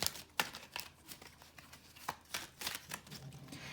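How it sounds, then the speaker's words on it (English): A deck of tarot cards being shuffled by hand, with quiet, rapid riffling and soft slapping card sounds coming in an irregular series of bursts, close and fairly faint, with no voices. "I'm shuffling this in front of the camera"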